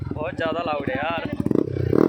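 A Yamaha R15 V3 with a loud Akrapovic exhaust revs, then settles into a rapid series of sharp popping backfires, close and loud.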